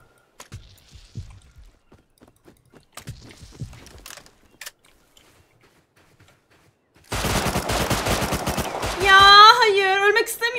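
Automatic gunfire in the survival game Rust bursts in loudly after a stretch of quiet talk, a dense rattle of rapid shots that swells and thickens toward the end with ringing tones.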